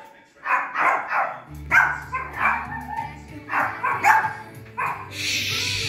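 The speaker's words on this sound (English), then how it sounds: "Why are you guys barking? No bark." Several pet dogs bark at home in a quick run of sharp, loud barks and yips close by, with short gaps between bursts and a brief whimpering tail at the end.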